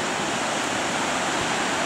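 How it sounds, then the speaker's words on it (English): Steady roar of a waterfall beside a road through a mountain pass in Oregon, a dense continuous broadband rush at close range with no voices. "there's a waterfall."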